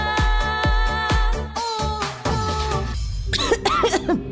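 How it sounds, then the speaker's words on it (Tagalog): Coughing in a cough medicine advertisement for Plemex Forte capsules, with a few harsh, chesty coughs in a row, loud and close, followed by tonal jingle-like sounds. "Ubo, plemang nakabara, hirap sa paghinga."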